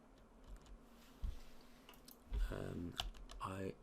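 Keys clatter in short bursts as a command is typed on a computer keyboard, quiet and close, with a few separate taps first and then a quicker run of keystrokes.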